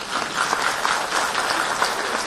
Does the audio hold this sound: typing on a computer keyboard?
no